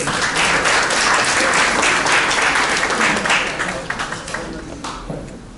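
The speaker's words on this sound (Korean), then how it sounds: "박수로 보내주십시오." An audience at a public hearing on the dental specialist system breaks into loud, dense applause that continues steadily, then thins into scattered claps as it dies down.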